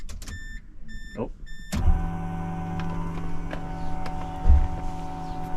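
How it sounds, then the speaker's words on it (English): A very loud 255 fuel pump in a Nissan 350Z whines continuously with a steady high-pitched electric hum, starting abruptly after a few soft beeps; a voice briefly exclaims over it. "you ready to listen to the loudest fuel pump in the world?"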